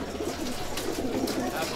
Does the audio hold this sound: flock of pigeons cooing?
yes